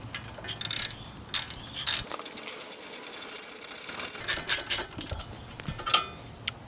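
A 12 mm wrench working a brake line bolt on a car during an Acura RSX coilover install, giving close, rapid metallic ratcheting clicks in a steady run, with scattered clinks and taps of tools around it.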